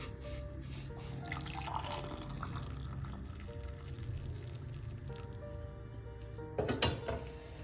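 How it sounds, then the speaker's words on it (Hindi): Boiled water pours into a glass in a home kitchen, a steady liquid trickle with drips. It runs continuously at moderate level for several seconds, ending in a brief louder splash, with no voices. "मैंने 1 गिलास पानी जो इसमें मैंने तकरीबन जो है 1 गिलास पानी डाल दिया है।"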